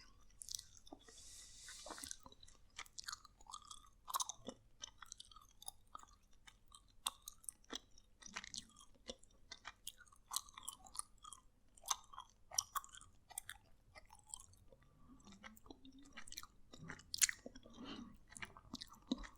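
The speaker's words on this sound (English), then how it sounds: "I've always really liked chewing gum." Close-up chewing of gum with steady wet smacks, clicks and crunchy bites repeating throughout, quiet and intimate, with no talking.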